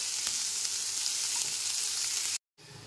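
Vegetables and flattened rice (poha) fry together in a pan over a low-to-medium gas flame, giving a steady, close, continuous sizzle that cuts out briefly near the end before resuming.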